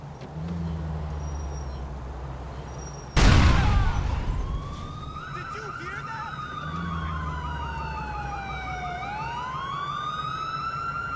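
A synthetic ambulance siren in GTA IV wails and sweeps up and down after a sudden loud crash, running continuously over a low engine rumble.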